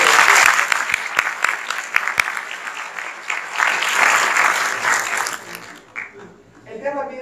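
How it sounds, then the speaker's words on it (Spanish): A live audience at a Spanish-language training seminar breaks into loud, sustained applause, dense clapping with a few whoops that fades toward the end as a voice comes back in. "Démosle un fuerte aplauso."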